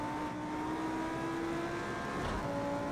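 An Audi R8 road car in the Project Cars 2 racing game shifts down to third gear at Bathurst, its engine note drawing a steady tone that dips and then rises again as the throttle comes back on.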